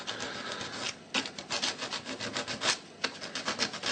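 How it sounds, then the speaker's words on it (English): Sandpaper lightly rubs the tops of small parts flat, a quiet series of short rasping strokes in an irregular back-and-forth rhythm, close and alone. "Next we'll use a bit of sandpaper just to lightly flat the tops"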